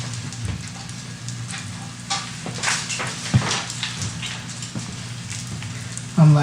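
A pancake sizzles and crackles in a hot pan, a steady frying hiss with small pops and scattered louder spits, heard close up with faint background movement.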